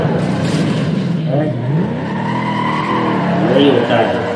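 Cars in the Need for Speed Most Wanted racing game skid and slide with sweeping tire squeals and revving engines, loud and continuous, with the rising and falling squeals repeating over several seconds.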